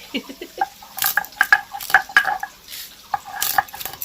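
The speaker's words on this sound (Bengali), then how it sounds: "এবার সব কটা এরকম নেড়ে ছেড়ে ভেজে নিতে হবে এগুলো" Whole spices including nutmeg dry-roasted in a pan, stirred with a utensil that produces irregular scraping, clinks and light rattles over a faint crackle, close by and uneven in rhythm, without speech.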